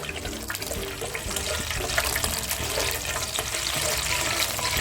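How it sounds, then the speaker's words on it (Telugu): Peanuts frying in hot oil over a medium flame in a pan, a dense, loud, continuous bubbling sizzle that holds steady throughout without speech. "వేరుశనగలు యాడ్ చేసుకోవాలి. మీడియం ఫ్లేమ్లో వేపుతూ ఉండాలి."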